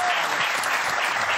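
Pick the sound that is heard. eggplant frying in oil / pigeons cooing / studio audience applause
studio audience applause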